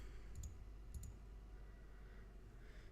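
A computer mouse clicking twice in quick double clicks, then again about half a second later, crisp and close over a low steady room hum with no talking.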